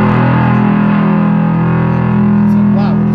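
Bass guitar played through a distortion effect, a sustained fuzzy low drone with buzzy overtones holding steady throughout, close and loud with no talking.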